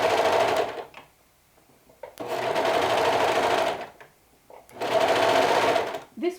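A sewing machine with a long stitch and high tension gathers fabric in three sustained whirring runs, each stopping for about a second of near silence before starting again.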